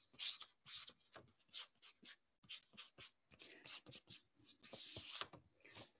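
A pen scratches across paper while flowers are being drawn, with quick, close strokes that come in short bursts and pauses, faint and alone.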